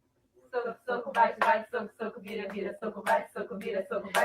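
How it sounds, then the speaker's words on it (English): Children's hand clapping game with rhythmic, evenly spaced claps under a chanted rhyme, close and fairly clear. "Hand clap games."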